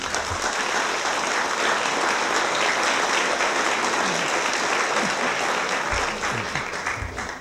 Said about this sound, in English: let's give a round of applause for Dick and Nora